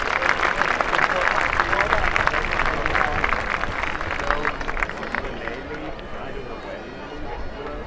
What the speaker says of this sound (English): Give Angus a round of applause